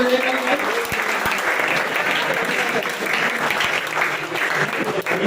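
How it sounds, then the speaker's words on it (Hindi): Audience at a physics quiz contest prize ceremony applauding a winner, continuous dense clapping with some voices and a speaker audible over the sustained applause. "तालियां बजती रहनी चाहिए।"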